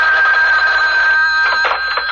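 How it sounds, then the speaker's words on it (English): A telephone bell rings loudly and continuously, a harsh metallic trill filling the whole moment with no voices over it. "I'll have to get the phone."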